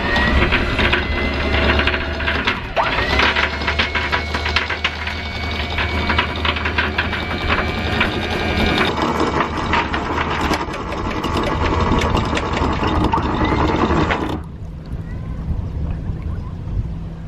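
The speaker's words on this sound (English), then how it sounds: "the windlass having to pull the boat forward on the chain" An anchor windlass on a sailboat hauls chain with a loud, continuous mechanical grinding and rattling that runs steadily, then cuts off abruptly near the end.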